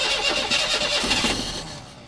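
An Austin A40 Somerset engine cranks over and tries to catch, a loud close churning turnover that keeps up for about two seconds before trailing off.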